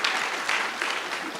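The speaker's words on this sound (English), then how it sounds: "Can we please give them another round of applause, please?" A conference audience at the City Power Energy Indaba 2025 applauds the panelists with dense, continuous clapping that fills the room at a steady level throughout.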